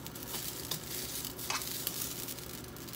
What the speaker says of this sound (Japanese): 焼きそばをよく焼いて